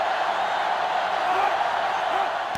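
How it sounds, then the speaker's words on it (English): A stadium crowd in the NCAA Football 2005 video game roars with a steady, dense wash of cheering noise during a Michigan versus Ohio State matchup, constant and loud with no breaks. "So this crowd is making their presence felt."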